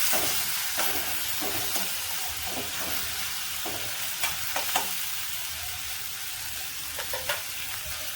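Tomatoes drop into a pan of frying peanuts and onion, setting off a steady, crackling sizzle close by, broken by a few sharp stirring scrapes and clicks of the spoon against the pan.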